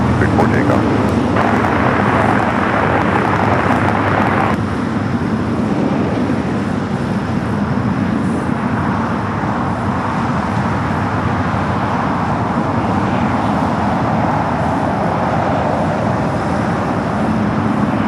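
Alaska Airlines jet on runway 25 right at LAX before takeoff, a loud, continuous broadband roar of jet engines with steady traffic-like rumble throughout.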